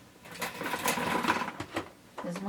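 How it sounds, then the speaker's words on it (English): A sewing machine stitches with dark brown thread in a burst of rapid whirring, close and fairly loud, with a short pause near the end before it starts up again. "This is my sewing machine."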